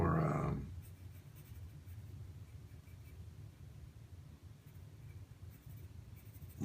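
Pencil rough sketching on paper: a continuous soft scratchy graphite rub, close and steady throughout, after a brief louder rustle at the start.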